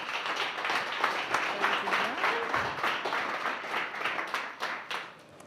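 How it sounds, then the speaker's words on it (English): A room full of people clapping steadily, dense continuous applause with a few cheers mixed in. "please give a big, huge round of applause for Kim Stellavato"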